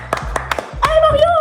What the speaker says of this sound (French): mesdames et messieurs, on peut tous applaudir.